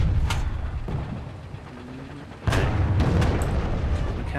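Incoming explosions in the War Thunder tank game, several dull booms with sharp cracks, the loudest landing near the middle and followed by a heavier rumble over continuous battle noise.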